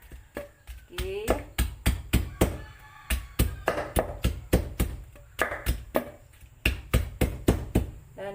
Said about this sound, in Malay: Jadi sekarang kita ketuk kita punya serai